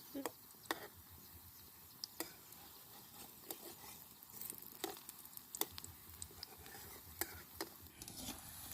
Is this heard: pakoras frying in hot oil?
yes